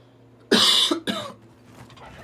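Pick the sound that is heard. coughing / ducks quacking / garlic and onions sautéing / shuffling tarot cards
coughing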